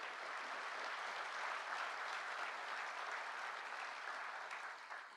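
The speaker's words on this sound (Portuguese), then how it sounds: "uma salva de palmas às polícias do DF" A crowd gives sustained applause for the Federal District police at a public security event, a dense, even wash of clapping that stays steady for several seconds and eases slightly at the end.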